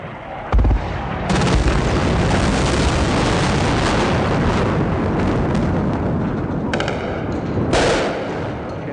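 Large bombs explode during the Iraq War Shock and Awe bombing, heavy booms and rumbling blasts rolling on continuously with sharper cracks layered in, loud and distant.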